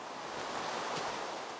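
Steady rain in the Minecraft video game, a close, even wash of hiss with no breaks and nothing else standing out over its short span.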